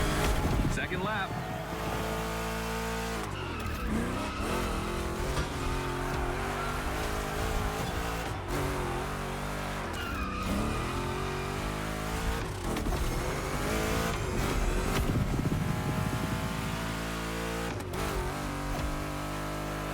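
A heavily modified classic Chevrolet 3100 pickup truck lapping a racing video game track, its engine droning loudly and continuously with revving shifts, laid over steady game music.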